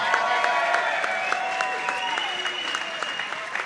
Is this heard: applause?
yes